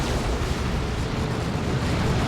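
Reaper Barrage in Warhammer 40k: Dawn of War 2, a continuous loud roar of overlapping explosions and booming blasts with no pauses.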